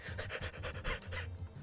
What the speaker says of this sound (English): Lesser Dog is barking excitedly.